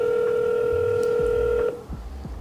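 A Google Voice call-connection tone sounds on a phone line: a loud steady electronic beep held for about a second and a half, then cutting off, followed by faint clicks and low line noise.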